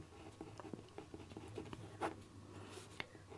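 A pen scratches across paper as someone writes out a math matrix solution, giving quiet, close strokes and taps in an irregular rhythm, faint and alone without talk.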